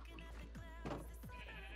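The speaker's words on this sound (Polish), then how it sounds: "Owce" Sheep in the Minecraft video game bleat several times in quick succession, close and clear over a steady low background hum.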